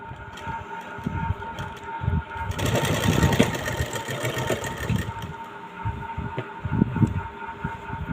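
Sewing machine stitching fine stitches along a neckline design on a garment: rapid mechanical whirring and clatter in bursts, louder and steadier in the middle, with short pauses between runs.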